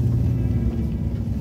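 A four-wheel-drive vehicle grinds up a hill in low range, a steady, close, heavy engine rumble with no break and no talk over it.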